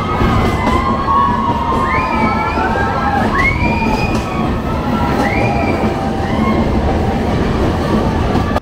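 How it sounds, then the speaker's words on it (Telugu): Passengers aboard the Araku Valley train shout and whoop together as it enters a tunnel, their cries over the loud, continuous rumble and squeal of the rail carriages. "ఇట్లా టనల్ వచ్చినప్పుడు అందరూ అరుస్తున్నారు"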